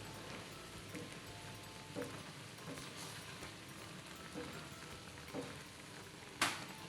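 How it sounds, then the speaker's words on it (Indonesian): Liquid boiling in a pot while cooking Banjar bubur gunting dough: a steady bubbling, crackling hiss with a few sharper clinks, fairly quiet and close, with no talking. "Nah, ini sudah mendidih."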